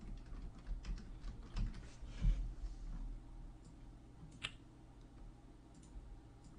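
Fingers typing on a computer keyboard during a Pokemon Scarlet and Violet gaming session, a quick burst of close, soft key clicks fading to sparse taps, fairly quiet with no talking.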